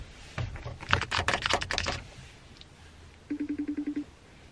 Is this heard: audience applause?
no